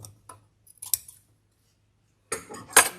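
Scissors snipping quilt fabric scraps, a couple of short crisp cutting bursts separated by a quiet pause, close and fairly soft.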